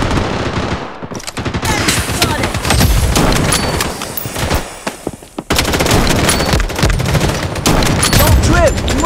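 Loud, continuous gunfire from the Blood Strike shooter game, with rapid automatic bursts and explosive booms following a thrown grenade, a brief drop near the middle, then dense firing resumes to the end.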